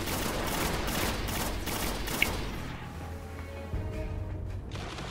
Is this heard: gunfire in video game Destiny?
yes